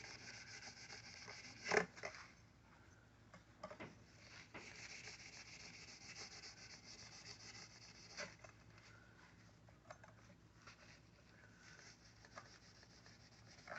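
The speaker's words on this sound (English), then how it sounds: "We're just getting any little dirt and grime off the top of the frets." A small household scrubby pad rubs grime off the tops of guitar frets, giving a soft, quiet scratchy friction with one sharper scrape near the start and faint brushing strokes after.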